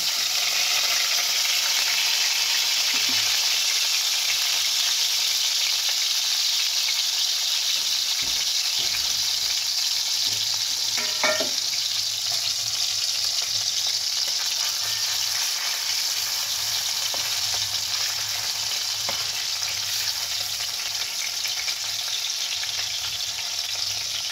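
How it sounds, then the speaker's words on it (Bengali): Pieces of bhetki fish frying in hot mustard oil in a karahi, a continuous close hiss and crackle lasting throughout, with a few faint clinks and handling sounds and no speech. "তারপর মাছগুলো আমি একে একে ভালো করে ভেজে নেব"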